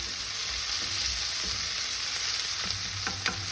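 Onions sizzle steadily in hot oil in a pan while cooking watermelon rind sabzi, a continuous loud frying hiss with occasional crackles and pops, no talking.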